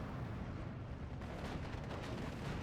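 Mortar fire in the Steel Division 2 wargame gives a dense, continuous low rumble of distant blasts, loud and unbroken throughout with no clear separate impacts.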